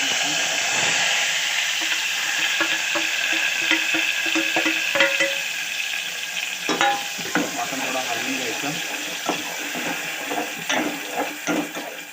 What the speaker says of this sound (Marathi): तेल गरम झालं आता आपण त्याच्यामध्ये वाटलेलं वाटलं